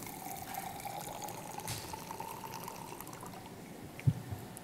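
Squeezing an H2O Saver water purifier sends out a soft, steady trickle of water that carries on quietly, with a small splash or knock near the end.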